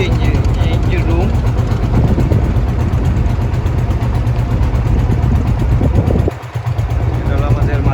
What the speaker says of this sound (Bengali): এটা হলো ইঞ্জিন, নিচে ইঞ্জিন রুম।